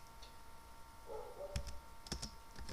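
Computer keyboard typing while writing code, a few sparse close key clicks in short bursts over a quiet background.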